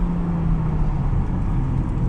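A modified BMW 440i in Sport Plus mode roars loudly and steadily under hard acceleration, a dense, continuous engine growl heard from inside the car with no talk.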